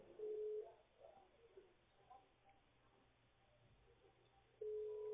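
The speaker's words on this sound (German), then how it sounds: "Bei euch tut es im Telefon." A steady electronic telephone tone sounds briefly at the start, then returns near the end after a stretch of faint, quiet background noise.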